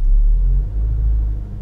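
A Honda car pulls away gently at low revs, giving a steady, close, low engine rumble that dips briefly and then holds even, with no voices.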